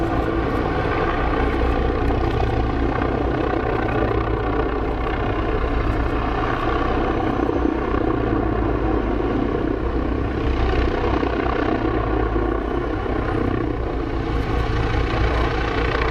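Apache helicopter in flight, a steady, loud rotor and engine drone that holds without a break for the whole stretch, with no voices over it.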